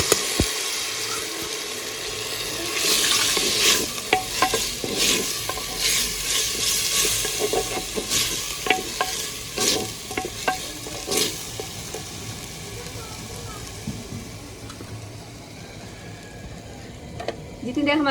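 Chopped onions sizzle and fry in oil for a chicken masala gravy while a spoon stirs them with repeated scraping strokes, a steady close hiss running throughout.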